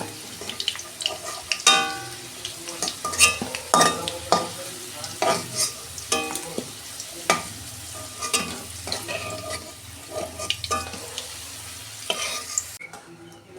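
Potatoes sizzle in hot oil in a pan while a spatula stirs and scrapes them, giving repeated close clinks and scrapes over steady frying, during preparation of a mango fish curry.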